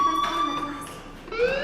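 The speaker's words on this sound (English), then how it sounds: "do you hear that fire alarm? That means you should be outside." Fire alarm in the Life Is Strange game demo on PlayStation 4 Pro, a steady electronic tone ringing continuously at moderate level with a faint voice-like murmur underneath.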